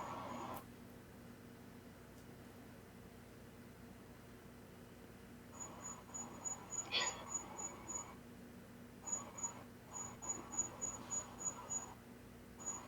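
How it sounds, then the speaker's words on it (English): Crickets chirp in short, regular pulsed bursts against a quiet, steady background hiss, the trills coming in several clusters partway through. "To this day, James, those crickets sound like a Brooklyn crackhead on like a stolen rusty BMX"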